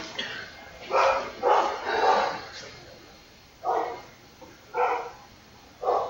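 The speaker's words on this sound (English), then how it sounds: "Yeah, that's my dog's bark in the background." A dog barks in the background of a home recording during a Corvette racing game session, a few separate bursts spaced a second or more apart, moderately loud against a quiet room.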